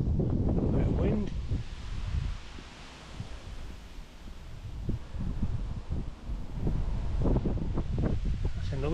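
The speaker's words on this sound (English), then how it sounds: "A bit of wind." Wind gusts outdoors on a walk around Ramoyle in Dunblane, buffeting the microphone with rough low rumbles that rise and fall, with a person talking intermittently over it.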